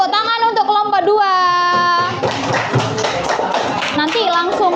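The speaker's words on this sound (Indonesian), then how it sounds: "Tepuk tangan untuk kelompok 2." Classroom clapping for a group of students in a junior high science lesson, a burst of hands clapping mixed with excited children's voices and chatter, fairly loud and close.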